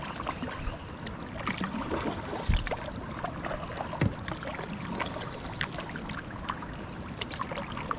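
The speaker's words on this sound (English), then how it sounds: "Can you hear that waterfall?" Rushing water from Burgess Falls near Sparta, Tennessee, heard from a kayak on the river: a steady broadband roar with scattered drips and splashes close by, no voices.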